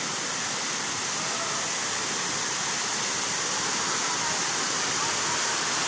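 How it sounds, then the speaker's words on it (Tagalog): A waterfall in Basilan roars in a steady, dense rush of white water that stays loud and unbroken throughout, with no voices. "At dito na po tayo sa falls mga kabatang mangsi"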